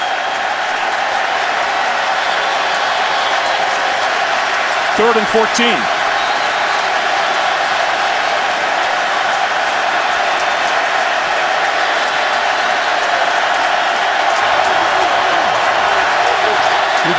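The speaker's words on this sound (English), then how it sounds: "Crowd noise having an impact." Constant roar of a stadium crowd at an NFL game between the Chargers and Ravens, a loud unbroken wash of noise under a play-by-play commentator's voice.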